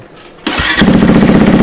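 A motorcycle engine starts up in a motorcycle shop, a loud close crank catching abruptly and settling into a rapid, throbbing idle.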